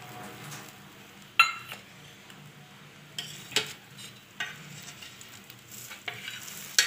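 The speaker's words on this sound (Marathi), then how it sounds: "त्याच्यामध्ये तूप सोडते मी चमच्याच्या सहाय्याने" Dabeli frying in ghee on a hot pan, spooned over as it cooks, with a steady soft sizzle and crackle broken by sharp spoon scrapes and clinks against the pan.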